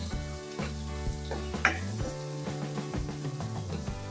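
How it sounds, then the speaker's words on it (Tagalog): Whole mushrooms sauté in a pan for a beef and mushroom dish, giving a steady sizzle with repeated stirring scrapes and clinks, close and moderately loud, while background music plays underneath. "igisa lang natin konti guys yung whole mushroom"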